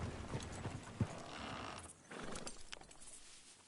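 Horse hooves clip-clop on a town street in Red Dead Redemption 2, a few irregular near thuds over faint ambient game noise and muffled movement, with no talk.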